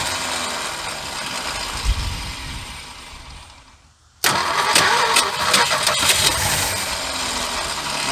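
A 1976 Ford F150 engine is cranked in an attempt to start it. A low rumbling noise fades almost to silence, then a loud, abrupt burst of harsh engine noise kicks in and carries on, heard up close.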